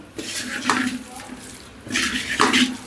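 Fish being mixed with spices by hand in a bowl, close wet squelching and rubbing in two bursts of handling, with brief clinks against the dish and a voice faintly in the background.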